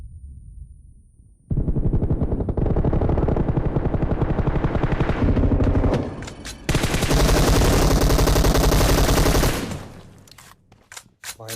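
M249 light machine gun fire in the mobile game PUBG Mobile: long, loud sustained automatic bursts with a brief pause between them, dense and close, with no speech over it.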